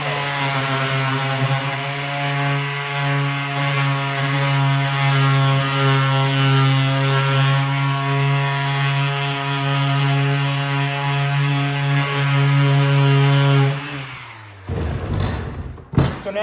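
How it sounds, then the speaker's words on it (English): A power sander works over a reclaimed barnwood board, a steady loud motor whine with strong harmonic hum running for about fourteen seconds before cutting off, followed by brief handling noises. "But I'll take my sander and give it a quick sand"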